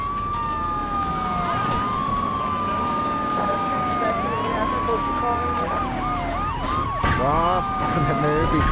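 Wailing police sirens in Grand Theft Auto III sweep up and down over constant traffic rumble, with quicker yelping bursts toward the end and voices talking faintly beneath.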